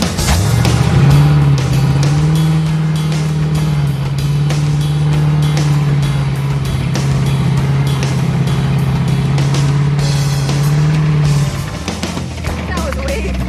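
A hot rod car holds a loud, steady engine roar during a burnout for about eleven seconds before the revs drop, with voices talking underneath.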